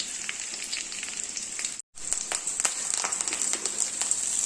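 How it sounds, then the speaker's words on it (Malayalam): Drumstick leaves sauté in a hot pan, giving a bright, crackling sizzle with spatula taps and stirring, briefly cut to silence for a moment before resuming close and steady; no voices. "ഇട്ട് കൊടുത്ത് നമുക്ക് ചെറുതായിട്ടൊന്ന് വഴറ്റിയെടുക്കാം."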